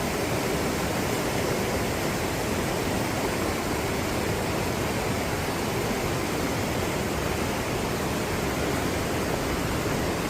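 A waterfall inside a cave in Switzerland roars as a steady, dense rush of water that fills the space evenly and continuously, with no voices or other sounds.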